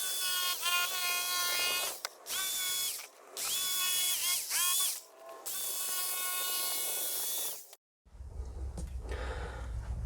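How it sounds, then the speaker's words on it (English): A jigsaw cuts through a COREtec LVT vinyl floor plank during a bathroom floor installation: a loud, close, high buzzing saw in several sustained runs with brief pauses, ending in a lower rumbling hum after the blade stops. "We're going to use the jigsaw to do all this."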